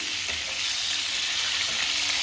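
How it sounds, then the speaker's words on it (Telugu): Brinjals sizzle steadily in hot oil for an Andhra-style brinjal karam, a dense, even frying hiss with light stirring and no voices. "వంకాయలన్నీ ఇలా వేయించుకోవాలి ఇలా ఒకదాని తర్వాత ఒకటి వేసుకొని వేయించుకోవాలి"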